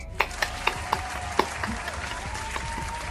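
Audience clapping at a bodybuilding question-and-answer show, heard as a handful of sharp, evenly spaced claps that soon thin out into room noise with a steady hum underneath.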